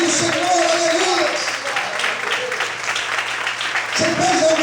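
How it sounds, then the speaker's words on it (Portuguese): A worship congregation claps hard in praise to the Lord, a thick, continuous burst of applause with a sustained organ-like drone and some voices mixed in, easing slightly before swelling again near the end. "Você pode aplaudir o Senhor"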